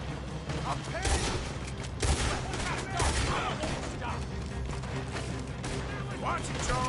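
Rapid gunfire in a Red Dead Redemption 2 shootout, loud overlapping shots and bursts cracking repeatedly throughout, with shouting voices mixed in among the volleys.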